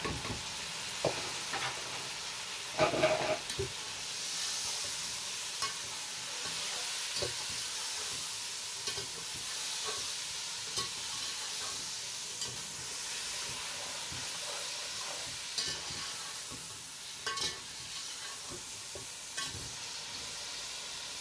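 Tomatoes cooking in a sizzling pot for beef yakhni pulao, a steady hiss of frying with scattered stirring clatters and scrapes, a louder clatter near the start.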